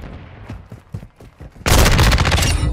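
Call of Duty MW2 gameplay: a few scattered thuds, then a loud, sustained burst of automatic gunfire that dominates the second half.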